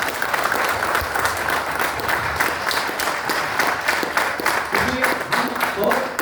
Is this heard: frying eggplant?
no